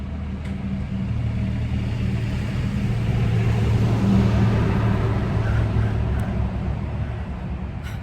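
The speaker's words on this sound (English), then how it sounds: "And a car." A car rolls past on a road outside, a low steady rumble that swells toward the middle and fades again, heard alone without talk.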